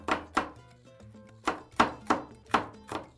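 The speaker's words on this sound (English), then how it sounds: "So we have some red pepper, and we're gonna chop that finely." Knife finely chopping red pepper on a cutting board, seven crisp close thunks in quick uneven pairs and runs, loud against a quiet kitchen.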